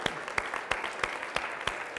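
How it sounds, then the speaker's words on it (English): Audience members applauding themselves during a talk, a steady bed of group clapping with regular louder claps recurring about every third of a second, moderately faint. "I also want to have you give yourselves a round of applause"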